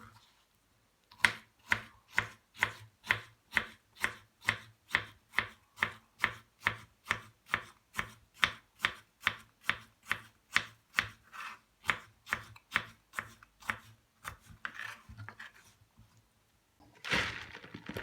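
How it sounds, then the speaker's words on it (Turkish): A knife chops cucumber on a cutting board in quick, even strokes, about two per second, close and crisp, with a louder clatter at the end. "Salatalığı da küçük küçük doğrayalım."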